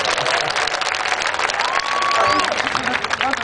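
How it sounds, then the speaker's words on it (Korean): An audience applauds to congratulate a performer's stage debut at a charity party, broad clapping mixed with crowd noise and faint cheers, fairly loud and sustained with a brief tonal sound partway through. "여러분 데뷔 축하 박수를 부탁드립니다"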